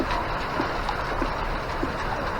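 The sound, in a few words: rain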